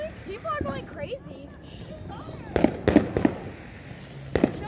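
Fireworks and firecrackers burst on New Year's, several sharp cracking bangs in quick succession and another near the end, mixed with excited voices talking and shouting in the background.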